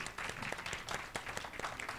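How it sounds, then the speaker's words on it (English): A crowd at a candidates forum applauds steadily, many hands clapping in a dense, continuous patter at moderate volume. "Let's give them a round of applause."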